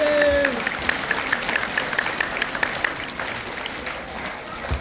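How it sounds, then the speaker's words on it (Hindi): An audience at a religious gathering applauds, a dense patter of clapping that is loudest at the start and slowly thins out, with a voice briefly heard over it. "इसके लिए एक ताली तो बनती है भाई।"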